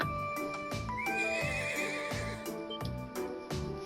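A horse whinnies loudly in The Legend of Heroes: Trails of Cold Steel over rhythmic hoofbeats and a steady game-style background track, close and clear.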